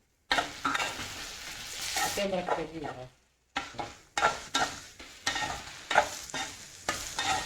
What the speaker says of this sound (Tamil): கட் பண்ணி வெங்காயத்தை போடுறோம்.